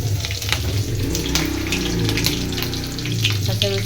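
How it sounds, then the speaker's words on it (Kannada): Mustard and cumin seeds sizzle and crackle in hot oil in a pan, a dense close hiss with scattered pops throughout, fairly loud and heard without talking. "ಎಣ್ಣೆ ಕಾದತ್ರಿ ಅದಕ್ಕೆ ಸಾಸಿವೆ ಜೀರಿಗೆ ಹಾಕೇನಿ ರೀ"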